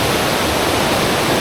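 River water rushes steadily at a forest waterfall spot in a Malaysian eco park, a dense, even roar that fills the whole short stretch with no other sounds.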